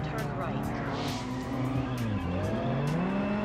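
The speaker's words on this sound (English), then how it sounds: "Can I not take a corner without spinning out?" A car spinning out on a corner in Test Drive Unlimited on PS2, engine roaring with wavering pitch while tires squeal and skid, loud and continuous for a few seconds under a talking voice.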